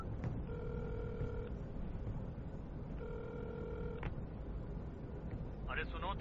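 A telephone rings in two bursts of electronic warbling tones with a pause between them, heard over a steady background hum of a room in a dubbed Hollywood film scene.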